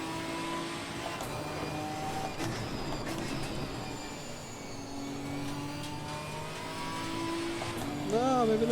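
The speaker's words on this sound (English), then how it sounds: "Sounds like bombs going off when you downshift." A GT4 race car engine roars in Assetto Corsa Competizione, droning steadily through gear changes with pops and bangs on the downshift, a voice talking over it.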